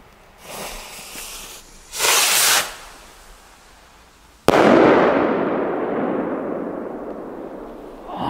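Patrol Rocket New Year's firework, launched with a loud hissing whoosh followed by a single sharp bang that rolls into a long, fading crackle and rumble, all fairly close with no talking.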